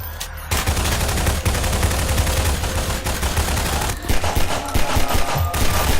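Repeated gunshots at a headcrab in the video game Garry's Mod, loud close bursts of firing that run almost continuously, with a few brief gaps between volleys.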